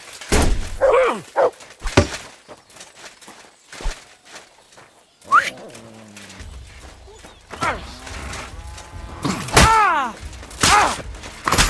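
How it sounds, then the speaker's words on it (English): Dog in Kingdom Come: Deliverance II, sharp barks and yelps scattered among thuds and footsteps, with people talking and shouting nearby. "Fucking mutt!"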